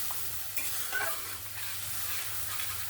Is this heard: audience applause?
no